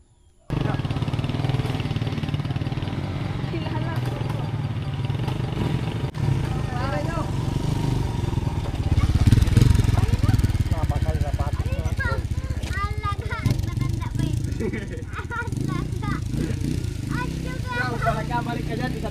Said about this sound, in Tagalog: Maski itong motor ko na to makakapasok to?